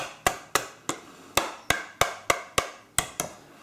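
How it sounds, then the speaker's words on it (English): A metal whisk smacked against the side of a mixing bowl while making a low-protein basic bread dough, giving eleven sharp, evenly spaced knocks about a third of a second apart, close and fairly quiet. "So smack your whisk"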